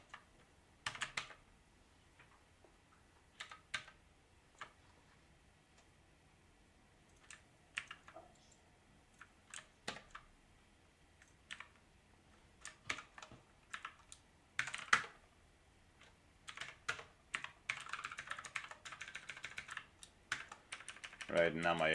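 Computer keyboard typing while a config file is edited in a text editor: irregular bursts of close key clicks with pauses between, growing into faster, denser runs of keystrokes near the end.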